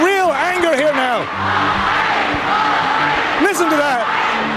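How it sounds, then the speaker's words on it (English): A Thai protest crowd chants loudly in rhythmic, repeated shouts aimed at police, voices rising and falling in unison, with a further burst of chanting near the end amid general crowd noise. "One of the shouts that they're chanting is slaves, slaves."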